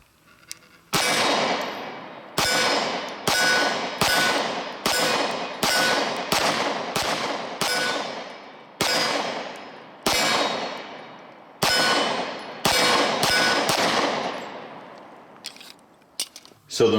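Beretta pistols, an M9A3 and a Wilson Combat 92G Vertec Brigadier Tactical, firing a string of about a dozen sharp, loud shots at a steady, unhurried pace, each ringing out briefly, with the first round fired double action.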